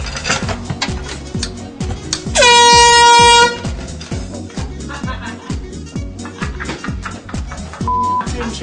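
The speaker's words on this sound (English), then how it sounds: "I take the air horn and I tape it underneath." A single loud, sustained air horn blast lasting about a second cuts through a steady thumping music beat.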